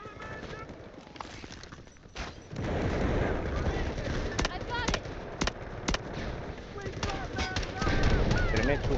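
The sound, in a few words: grenade explosion and gunfire in Delta Force video game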